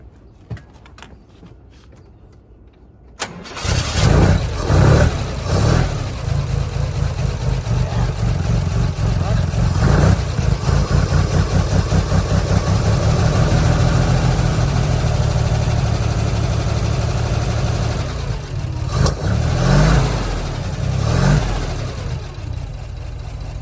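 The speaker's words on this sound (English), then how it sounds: "Let's go and see if we can actually get this old girl started up." A 1954 Corvette with a freshly rebuilt fuel pump cranks and catches, then runs loud and close at a rough, pulsing idle for about twenty seconds, with a few blips of revving near the end.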